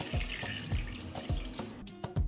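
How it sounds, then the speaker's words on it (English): Water pours from a kitchen tap into a pan holding jars set on a towel, ready for pasteurization, with close, steady splashing and a few rhythmic glugs and knocks. "I pour water up to the height of the lid."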